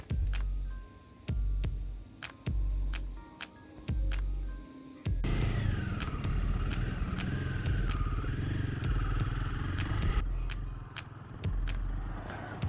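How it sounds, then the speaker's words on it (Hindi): A motorcycle sets off on a foggy winter highway ride from Delhi toward Manali: a few sharp knocks and clicks, then the engine catches and settles into a steady, close droning rumble as the bike rides away. "ये अपनी बाइक यहाँ पे मस्त, फटाफट से बैठते हैं और निकलते हैं।"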